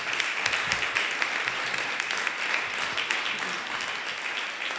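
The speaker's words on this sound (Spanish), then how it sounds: "y nos merecen un fuerte aplauso." Audience applause at a pensions talk in Bilbao, a steady patter of many hands at moderate volume, fairly even from start to finish with no speech over it.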